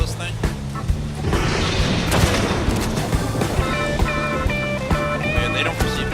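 Rifle gunshots in a video game, fired at a creature: a handful of sharp, loud cracks spread across the stretch, over a dense bed of game music and effects, with voices talking throughout.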